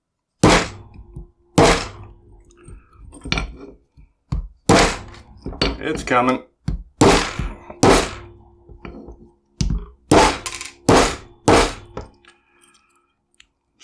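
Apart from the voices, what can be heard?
hammer whacking a Concord combo cable lock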